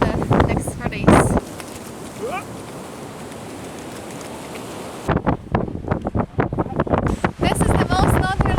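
Strong wind on the Shetland coast buffets the microphone in a rough, roaring rush through the middle of the clip, with close, gusty rumbling and broken voices before and after.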